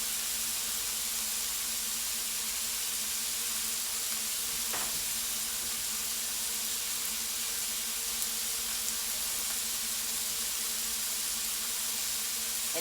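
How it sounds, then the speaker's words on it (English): Vegetables sautéing with garlic in a frying pan for a frittata, a steady soft sizzle and hiss held evenly throughout with no talking, one faint clink midway. "Now we're just going to saute the vegetables until they're good and soft."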